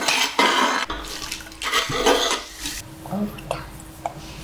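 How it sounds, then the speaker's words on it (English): A child mixes a soft mixture with a spoon in a bowl, making clattering scrapes and knocks at close range, with brief watery sounds and a faint voice in between. "Toddy, mix it with your spoon."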